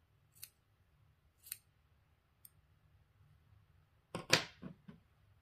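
Scissors snip off leftover yarn ends on a knitted scarf: a few sharp, separate clicks in a quiet room, then a quick cluster of snips near the end.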